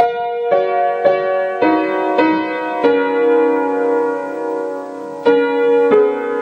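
A piano plays a bar of a piece from Twilight as a sequence of clear, ringing chords, several struck in quick succession and then one held long before two final chords, close and unaccompanied.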